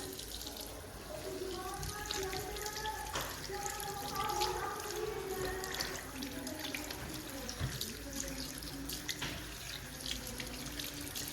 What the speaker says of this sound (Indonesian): Pada saat ini kita biarkan air mengalir terlebih dahulu